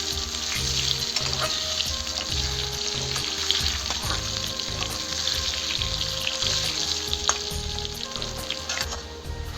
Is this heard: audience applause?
no